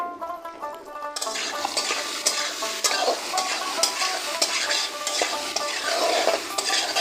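Potatoes frying in a pan with salt and turmeric for muri ghonto, a steady close sizzle broken by scraping stirs and occasional clinks of a utensil against the pan, with no talking.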